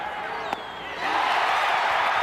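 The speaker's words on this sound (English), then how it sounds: "And the crowd reacting on every pitch in this ball game" Baseball stadium crowd at a 1986 NLCS Mets versus Astros game reacting to a pitch: a broad roar of many voices swells after a second and holds steady and loud.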